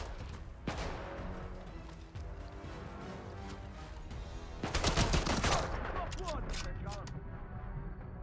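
Gunfire in the video game Atomfall: a single shot early on, then a dense burst of rapid shots around the middle, with voices talking over and after it.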